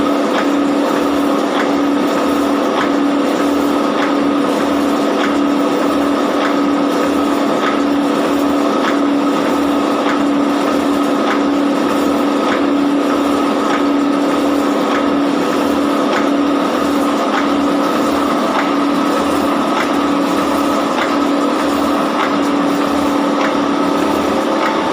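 A metal shaping machine (shaper) runs with its cutting tool moving back and forth, giving a loud, continuous mechanical drone marked by regular strokes roughly once per second throughout.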